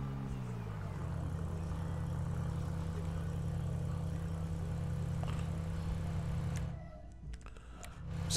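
A McLaren car idling in a video game, a steady low engine hum holding evenly for several seconds before dropping away near the end, fairly quiet and alone without talk.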